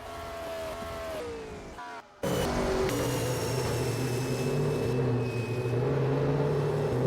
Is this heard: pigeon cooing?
no